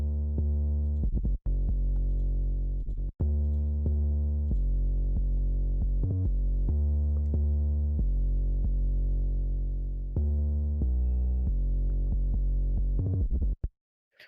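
Deep 808 bass drums playing in a hip-hop beat, long booming sustained low notes changing pitch in a repeating pattern, loud and up front with brief dropouts, no talking.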